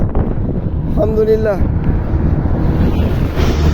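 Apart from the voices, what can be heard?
sea wind blowing against a cyclist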